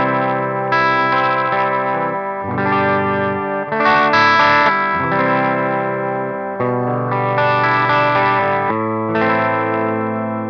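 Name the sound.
Fesley FLP350 electric guitar, bridge pickup, clean tone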